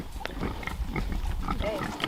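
Pigs in a pen grunt and shuffle close by in a steady, busy jumble of low snorts and squeals, with a few human voices mixed in.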